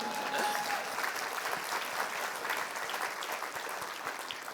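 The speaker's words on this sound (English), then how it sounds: "That's right, you should clap." A summit audience breaks into sustained applause, a broad, even wash of many hands clapping in a large room that stays fairly level and eases slightly toward the end.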